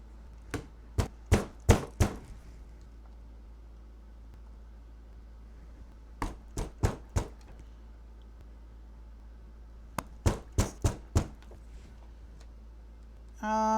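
Sharp metallic hammer strikes on pliers in three separate bursts of four or five quick blows each, close and loud, with quiet pauses between.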